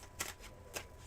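Tarot cards being shuffled during a reading, two brisk riffles close to the microphone over a low background hum, with no voice.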